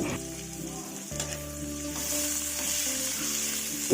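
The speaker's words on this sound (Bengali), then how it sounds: "তারপরে অল্প একটু তেল দিয়ে দুটা কাঁচামরিচ আর পেঁয়াজ কুচি আর কি দিয়ে দিচ্ছি" Two green chilies and chopped onion hit a little oil with a steady, close sizzle, joined by a low hum and a few stirring knocks.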